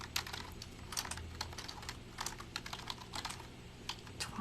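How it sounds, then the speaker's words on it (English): Steady clatter of fingers on a computer keyboard, quick irregular bursts of keystrokes running throughout, close and soft, with no voices. "Some days I'm just like not with it with the typing."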